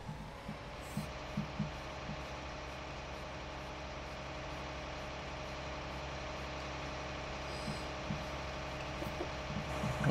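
A tractor in Farming Simulator 19 hauls trailers loaded with over 100 tons of sugar beets, its engine a steady low droning hum that holds even throughout, with a few faint clicks and knocks on top.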